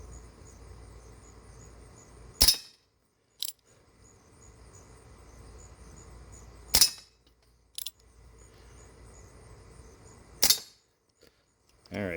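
A Remington 1875 CO2 revolver fires three sharp, loud cracks several seconds apart. Each shot is followed by a fainter ping as pellets ricochet off targets, with quiet room tone between shots.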